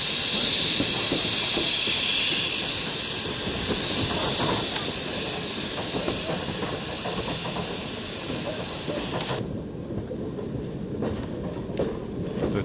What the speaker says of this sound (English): Our train is now arriving at the first switchback.